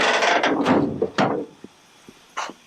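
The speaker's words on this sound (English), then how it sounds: "Hatch shuts, okay." Hatch of a 1969 Triumph GT6 Mk2 being shut during rust repair, a few hard metallic clunks and latch clicks in quick succession, followed by lighter scattered taps and a final knock, close and alone.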